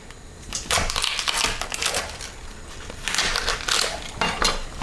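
A knife cuts the tough stalk from cabbage leaves stacked two at a time, giving crisp crunching, snapping cuts in two bursts, close and fairly loud with no talking.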